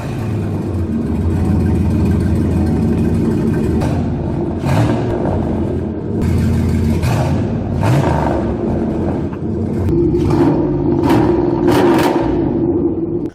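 Chevy Monte Carlo SS with a 5.3 liter LS V8 revs loudly and steadily up close, its low rumble punctuated by several sharp throttle blips and rising pulls with no voices over it.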